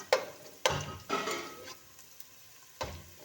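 Onions frying in a pan, heard as a soft sizzle broken by a few sharp stirring scrapes and taps at irregular intervals, fairly quiet and close.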